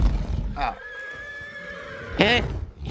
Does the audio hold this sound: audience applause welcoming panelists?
no